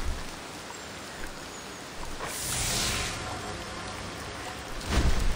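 Steady rain falls throughout a horror video game scene, a dense constant hiss with brief swells, including a louder gust around the middle and a heavier burst at the end.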